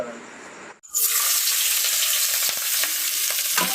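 Food fries and is stirred in a pan at an outdoor picnic cookout. After a brief quiet moment, a loud, close sizzle starts and continues, with scraping stir strokes breaking through.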